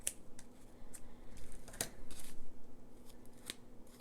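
Scissors cutting junk mail envelope paper, a run of close, crisp snips and slicing sounds in an uneven rhythm, clear against a quiet background.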